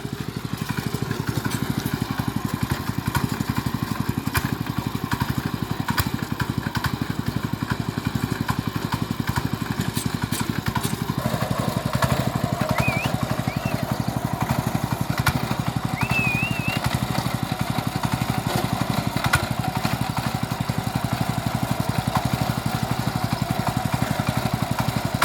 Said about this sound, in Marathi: आणि इकडे ट्रॅक्टर चालतो शेवीचा